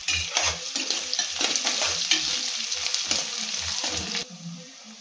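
Finely chopped onions and curry leaves fry in a pan, a steady close sizzle broken by repeated low scraping stirs, with the sizzle dropping away near the end.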